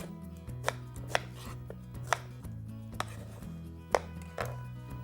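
A knife chops a medium onion into small pieces on a board, with about eight crisp, evenly spaced strikes over a low steady hum.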